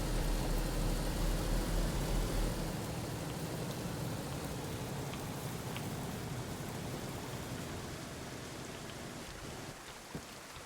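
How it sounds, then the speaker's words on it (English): Steady rain falling in a zombie survival video game, a dense even hiss that is heavier at the start and eases slightly over time, with a faint low rumble early on and no voices. "every time I say it out loud, it starts raining again"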